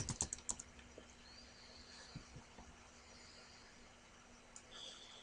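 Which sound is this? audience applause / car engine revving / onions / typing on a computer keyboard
typing on a computer keyboard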